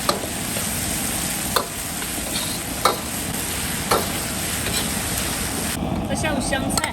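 Beef and coriander hit hot oil over high heat, giving a loud, continuous sizzle with a few scraping stir strokes on top.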